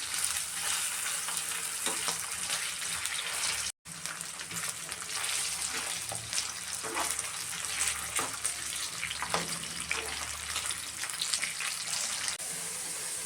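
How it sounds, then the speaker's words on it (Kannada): Potatoes frying in hot oil in a pan, with a steady, close sizzle and crackle running throughout and a brief break partway through. "ಇವಾಗ ಪೊಟೊಟೊ ಹಾಕ್ತಾಯಿದ್ದೀನಿ. ಸಿಮ್ಮಲ್ಲೇ ಎಲ್ಲ ಚೆನ್ನಾಗಿ ಫ್ರೈ ಮಾಡ್ಕೊಬೇಕು."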